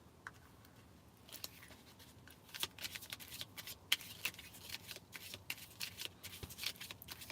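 Oracle cards are shuffled close by, starting faint and building into a steady run of quick, papery riffles and taps that continue to the end.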